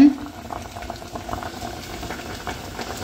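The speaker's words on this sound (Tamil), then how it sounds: "களி வந்து வெந்துட்டுருக்குது." Kali, a millet porridge, bubbling steadily as it boils in a pot, with a continuous close burbling and popping that stays fairly constant throughout, with no voices over it.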